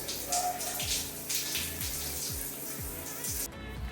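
Steady broadband rush of water running into a bath fills the clip, with faint low knocks now and then and an abrupt stop near the end.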